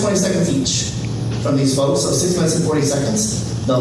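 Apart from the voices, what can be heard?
No everyday noises stand out.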